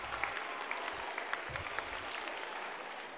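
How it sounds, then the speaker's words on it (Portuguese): Students and teachers clap for a third-grade girl at a Brazilian school reading-project event, a continuous crowd applause with a few sharper individual claps standing out and faint voices beneath. "Palma, gente, para Maria Luísa"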